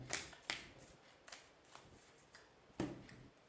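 A deck of Gypsy fortune-telling cards is shuffled by hand in quick, crisp riffles and taps, spaced irregularly and fairly quiet, with a sharper flurry near the end and no talk.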